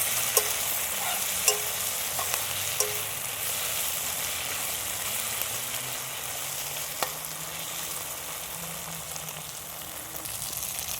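Ginger-garlic paste and masala being sautéed in a pan for chicken noodles, giving a steady soft sizzle with occasional light stirring clicks, close and even throughout, with no talking.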